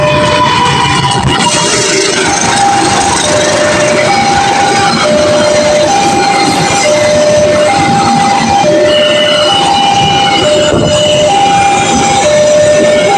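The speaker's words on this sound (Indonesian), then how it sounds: "ini ada kereta api dengan ditarik lokomotif CC203" A passenger train hauled by a CC203 diesel locomotive passes Cikarang station, a loud steady rumble of wagons with a repeating two-tone bell or signal chime sounding throughout, close by with no talk.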